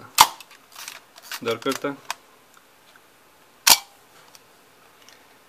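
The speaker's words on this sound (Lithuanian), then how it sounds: "Ir vėl galim paleisti, reiškia, užraktą." Two sharp mechanical camera-shutter clicks, a few seconds apart, with someone speaking briefly between them.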